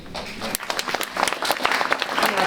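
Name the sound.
audience applause for the hosts at Berkeley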